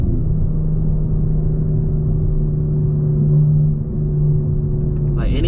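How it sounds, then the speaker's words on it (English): A 750 hp BMW G82 M4 Competition pulls hard in first gear, its engine droning loud and steady from inside the cabin before easing off near the end. "I love doing first gear pulls in these"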